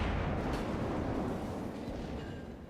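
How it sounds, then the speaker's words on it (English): A Japanese navy warship in a naval battle game fires armor-piercing shells at the cruiser Nuremberg, producing a heavy, rumbling broadband roar of naval gunfire that fills the whole moment and slowly fades. "So I'm gonna fire my AP off at the Nuremberg, switch over to HE"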